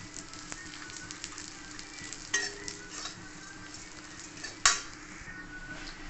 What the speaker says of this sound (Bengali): আমি কম ঘি দিয়ে আমি লাচ্ছাটাকে ভালো করে ভেজে নিলে তার স্বাদ ভালো আসবে